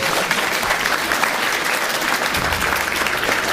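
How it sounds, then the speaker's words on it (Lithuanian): Steady, dense audience applause at a school's Silver Night event, a full room clapping continuously at close range with no break. "galime paskirti aplodismentus"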